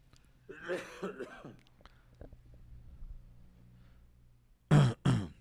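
Quiet speech and whispering, then two loud, harsh coughs close by near the end.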